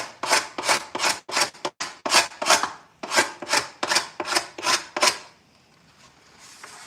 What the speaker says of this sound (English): I got to scrape out this one. So this is the perfect tool for that job.